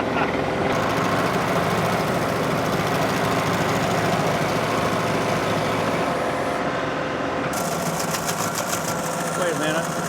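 A heavy tractor engine runs steadily and loudly throughout, a continuous mechanical drone with some rattling, with faint voices underneath.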